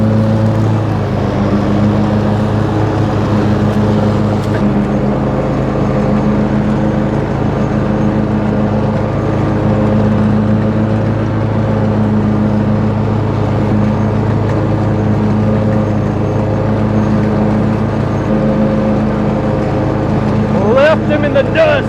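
A 2020 Toro Titan 60-inch MyRide riding mower engine runs steadily and loudly throughout, a continuous mid-low drone with people talking over it.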